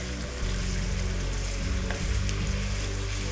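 Pieces of lamb for a casserole fry in a pan, a dense, steady sizzle running close and loud throughout with no talk.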